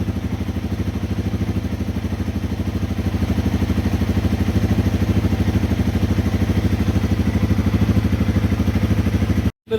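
A Yamaha TW200 motorcycle idles in first gear with the clutch pulled in, its single-cylinder engine putting out a close, steady rapid chugging pulse for about ten seconds before cutting off abruptly at the very end.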